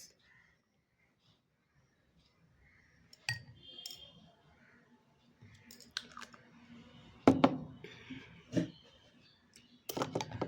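A spoon clinks against a small dish while half a spoonful of Dabur honey is added to a homemade herbal face pack. The sharp taps are scattered and close, with some quiet handling noise between them.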